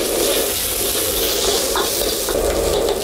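Steamed, sliced and fried Hakka salted pork is stir-fried in a wok, giving a brief, steady close-up sizzle with a watery hiss.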